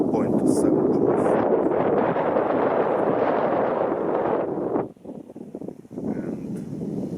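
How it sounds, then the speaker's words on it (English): Strong wind gusting outdoors at an airgun shooting range, buffeting the microphone with a loud, continuous roar that drops abruptly near the end, leaving quieter gusts and rustle. "waiting for the wind to stop"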